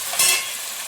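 Tomatoes with onions and salt fry in a pan for fish curry, one brief burst of steady close sizzling that swells slightly and then settles.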